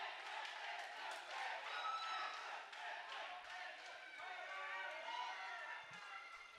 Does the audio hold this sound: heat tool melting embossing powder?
no